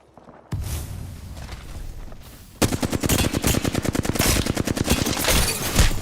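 Video game gunfire: an opening volley, then a long run of rapid automatic shots in a fast, even rhythm, loud and close throughout.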